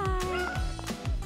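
A cartoon cat meows repeatedly in a Poppy Playtime animation, with a dog present. Short, close, wavering cries follow one another, and bouncy effects sound between them.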